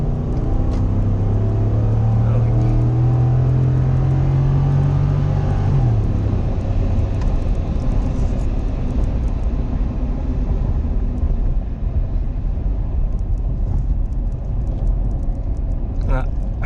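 A Ford F150 pickup truck fitted with a Pedal Commander throttle controller revs its engine, the tone climbing steadily and then dropping off, leaving a loud, continuous rumble.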